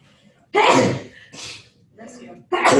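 A loud, close sneeze bursts out, followed by short breathy exhalations and a second sharp sneeze at the end; a voice murmurs briefly between them.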